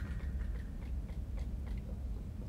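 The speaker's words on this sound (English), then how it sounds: "I'm chewing on Cocoa Puffs." Soft, intermittent crunching and biting of Cocoa Puffs cereal being chewed close to the mic, quiet irregular bites over a low background hum, no talking.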